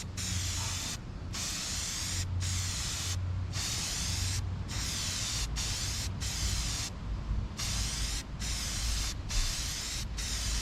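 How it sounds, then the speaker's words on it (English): Short bursts of aerosol cleaner spray hiss repeatedly onto a cold air intake filter, in quick succession, each a few seconds long, separated by brief pauses, with a low rumble underneath. "Always spray with the fins."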